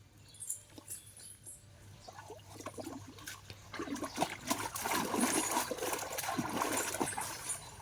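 Water sloshing and splashing in a full bathtub, starting with faint scattered drips and trickles, then building into a steady close stretch of splashing and stirring.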